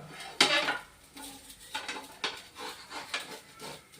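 A metal griddle pan holding a cooked pesarattu is turned around by hand on a small stove, giving several close scraping clanks and rattles spread over a few seconds.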